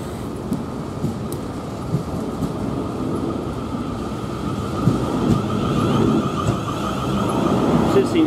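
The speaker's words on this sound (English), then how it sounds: "There goes my train." A South Western Railway train rumbles past steadily at moderate distance near Eastleigh, a continuous rolling roar that builds slightly toward the end.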